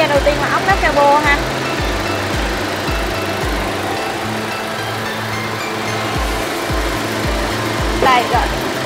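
A Chevrolet Cruze sedan engine, 2016 LT or 2017 LTZ, idles with a steady low rhythmic hum. Someone talks over it near the start and end.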